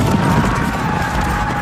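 Cavalry horses' hooves clip-clop in a quick, continuous patter over a brief stretch, loud and close, in a scene of mounted riders arriving in 600 BC.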